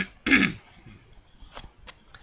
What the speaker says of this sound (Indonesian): Bentar batuk dulu